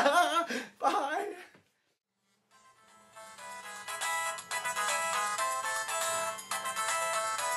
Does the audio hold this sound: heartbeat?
no